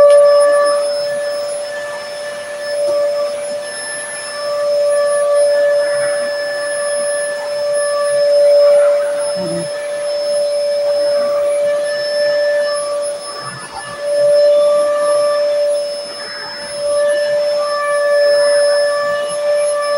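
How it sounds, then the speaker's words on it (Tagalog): A household vacuum cleaner runs steadily in a mansion, droning loudly and continuously with a tonal whine and slight swells in level, and almost no talk over it. "Now I teach her how to make the vacuum."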